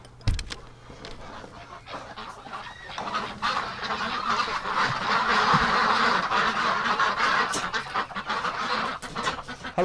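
A flock of farm ducks quacks and honks close by, starting sparse and building into a dense, loud, continuous chorus of overlapping calls.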